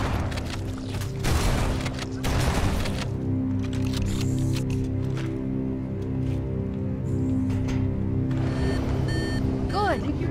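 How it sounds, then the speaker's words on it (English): Exhaust couplings pulled back on a reactor in Halo CE on The Maw: heavy mechanical clanks and thuds over a deep humming drone, loud and continuous with a rising whir near the end, alongside game speech. "we need to pull back the exhaust couplings"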